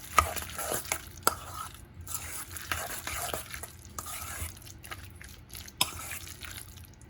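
Eggs are stirred with turmeric in a bowl for a breakfast casserole, giving soft, steady scraping and swirling with a few sharper utensil clicks against the side, close and fairly quiet, with no voices.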